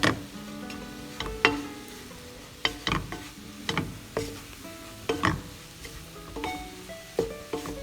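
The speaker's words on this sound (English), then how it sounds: "We've added in the oil and we're stirring it around to the pork covered in flour." Flour-coated pork frying in vegetable or canola oil while being stirred in a pan, with a steady close sizzle broken by repeated sharp scraping clicks of the utensil against the pan.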